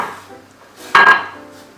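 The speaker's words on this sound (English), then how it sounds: "keep stirring till a dough is formed" Churro dough being stirred with flour in a pot, a short clatter of utensil against cookware that swells near the middle, then fades back to quieter scraping.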